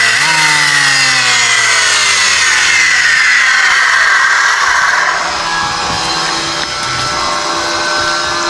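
A loud, high whining electric wood planer cuts into wood close by, its motor pitch dipping under load and then recovering.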